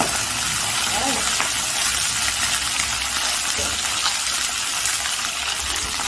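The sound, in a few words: cooked mutton pieces and dry chili added to a hot pan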